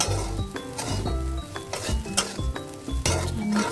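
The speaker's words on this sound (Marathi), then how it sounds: "मीठ टाकून छान मिक्स करून घेऊयात" Sabudana khichdi with salt being stirred in a pan over a low flame, a busy run of spoon scrapes and clinks against the metal with a soft sizzle underneath, close and steady, no talking.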